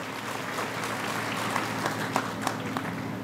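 Audience applause at a political speech by a guardian minister in Dabhadi village, a steady mid-distance patter of clapping with a few sharper individual claps, sustained evenly throughout.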